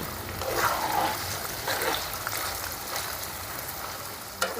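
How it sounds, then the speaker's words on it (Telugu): Paneer lightly frying in a pan, a steady broad sizzle that hisses close and even throughout, ending with one brief sharp tap, no voices. "ఫోర్ హండ్రెడ్ గ్రామ్స్ పన్నీర్ తీసుకున్నామండి మనము ఇలాగా మరీ ఎక్కువ కాకుండా లైట్గా ఫ్రై చేసుకుందాం"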